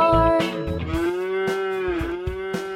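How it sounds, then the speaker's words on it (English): A cow moos in a barn, one long, loud, close lowing call with a rich harmonic drone, accompanied by light rhythmic thumps. "There is a cow in the barn."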